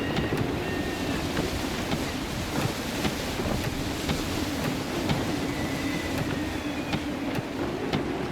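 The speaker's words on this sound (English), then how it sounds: "Gusty winds can be difficult to manage." Gusty wind howls steadily at sea while a sailing ship cuts through the water in Assassin's Creed III, a dense, constant roar with faint creaks running through it.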